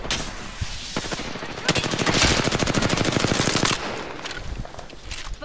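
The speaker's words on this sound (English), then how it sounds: "Taking fire." Rapid automatic gunfire rattles in a battle royale video game, a dense sustained burst of shots with scattered single cracks before and after, loud and close.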